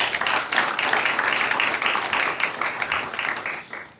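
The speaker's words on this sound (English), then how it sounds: "we need to give them another big round of applause," An audience at an entrepreneurship day event gives a sustained round of applause, dense, even clapping that holds steady and then tapers off near the end.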